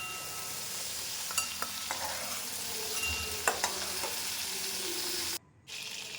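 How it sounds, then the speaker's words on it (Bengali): Shrimp frying lightly in oil in a pan, a soft steady sizzle with occasional clinks and stirring scrapes, briefly cutting out near the end. "তাই হালকাভাবে ভেজে নেব চিংড়ি মাছটা"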